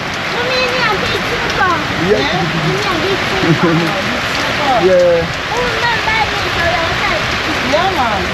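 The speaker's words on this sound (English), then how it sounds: "So the rain look like it's an all-night rain." Heavy rain pours in a steady, dense hiss close by in Morant Bay, St Thomas, Jamaica, while people talk over it.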